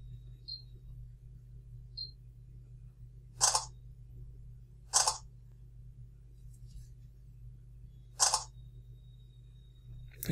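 Three sharp camera shutter clicks from a Samsung Galaxy Grand 2 smartphone, spaced a few seconds apart over a steady low hum, with a couple of faint electronic beeps early on.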